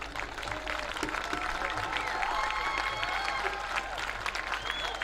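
Audience applause at a U-12 baseball European Championship ceremony: a dense, steady wash of clapping from a crowd, with scattered cheering and voices mixed in throughout.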